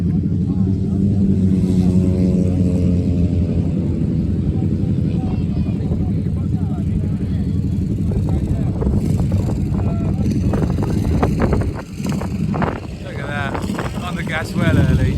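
A racing machine laps the track during an ASTRA test day at Swingfield, its engine droning loud and close throughout with steady harmonic tones, then roughening with a brief dip near the end, while a commentator talks over it.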